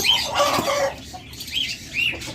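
A pair of par blue lovebirds in a cage give a few short, bright chirps close by, with soft rustling and fluttering between calls.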